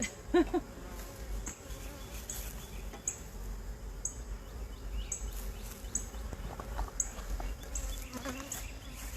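Honey bees buzzing around several hives, a steady close insect drone with individual bees passing near, over faint outdoor background noise.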